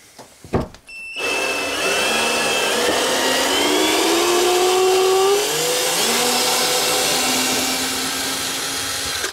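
A power screwdriver drives a yellow oxidized self-tapping screw through a board into a wall-mounted batten in a bathhouse, a steady motor whine sweeping slowly upward in pitch for several seconds after a brief click at the start, close and loud.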